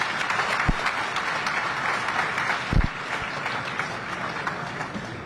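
An audience at a formal state address in Plateau State bursts into dense, sustained applause, many hands clapping together in a steady wash with a few louder nearby claps, with no talking.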